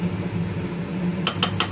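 A metal lid is set on a pot of chicken simmering in a yoghurt and Kashmiri chilli gravy, three quick clinks near the end above a steady low kitchen hum.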